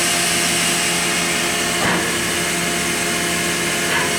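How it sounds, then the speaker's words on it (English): Spindle of a Mazak VCN 410A-II vertical machining center running at 1800 rpm, a steady, loud mechanical whir with constant tonal hum and a brief change near the middle. "We're running at 1800 on the spindle"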